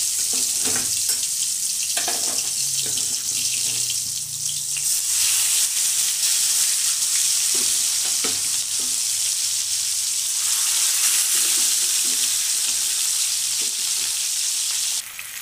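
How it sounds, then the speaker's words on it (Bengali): Shankar fish pieces frying lightly in hot oil, giving a loud, continuous close-up sizzle that runs throughout, with faint occasional knocks and no talk. "এখন মাছগুলোকে ভেজে নেব।"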